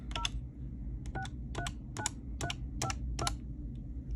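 An Avaya 9608 desk phone dials a number: eight short, evenly spaced DTMF keypad tones, close and clear over a quiet low hum, with no talking.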